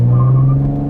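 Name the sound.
2020 Chevrolet Camaro accelerating at full throttle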